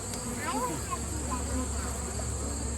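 A dense, steady hum of many honey bees buzzing close by at the hives, with individual insects whining past now and then over the constant drone.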